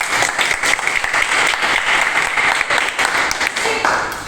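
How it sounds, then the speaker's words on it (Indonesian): A classroom of students claps together in a lively, dense burst that holds steady for several seconds before tapering off. "Berikan tepuk tangan."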